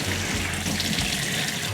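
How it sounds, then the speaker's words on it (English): Cold tap water runs over raw chicken for Korean spicy stir-fried chicken, a loud, steady gush of faucet water splashing into a sink in one short continuous burst. "Eliminate any remaining blood or guts from the chicken by rinsing it under cold water."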